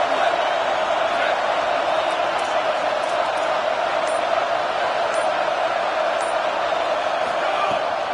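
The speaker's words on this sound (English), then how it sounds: "This crowd, full throat, splitting the eardrums and letting them know it's going to be a long day" A football stadium crowd roars at full throat after a big play, a dense, steady wall of cheering and shouting with scattered whoops that holds loud and unbroken throughout.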